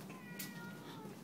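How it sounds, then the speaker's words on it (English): A cat gives a short, clear meow outdoors in the early morning, moderately close over a steady hiss of background noise. "Shut up, kitty."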